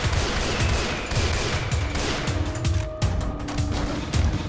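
Gunfire in Left 4 Dead 2, a dense rapid volley of shots rattling on continuously for several seconds, loud and close, with no talk.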